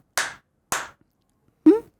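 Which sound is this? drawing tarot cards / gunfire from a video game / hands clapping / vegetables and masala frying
hands clapping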